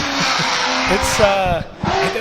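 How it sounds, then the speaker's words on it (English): A supercharged Ford Coyote V8 drift car roars loud and close at a Pro-Spec drifting event, its engine note rising and falling amid tire squeal, with voices talking over it. "as I am deafened by the sound of that supercharged Coyote V8"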